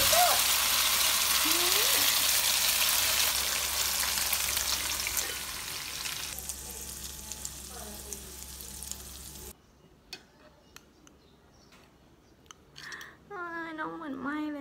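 Eggs beaten with milk sizzle and crackle steadily in a frying pan in a home kitchen, a dense, loud hiss that drops away partway through, after which someone speaks.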